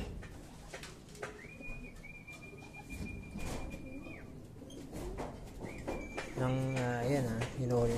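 Racing pigeons coo close by after a derby race, with soft warbling calls building near the end over a busy background of scattered clicks and noise.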